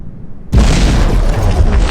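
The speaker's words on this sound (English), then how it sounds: "Much bigger explosion." A cannon shell loaded with extra high explosive bursts in From The Depths, a sudden loud boom after a quiet moment, then a sustained rumbling roar that lingers to the end.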